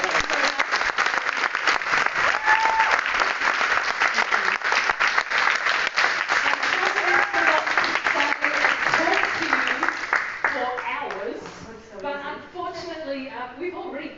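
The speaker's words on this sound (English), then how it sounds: "Should we all give her a round of applause?" A group gives a sustained round of applause, many hands clapping densely for about ten seconds before it thins out and a voice starts talking.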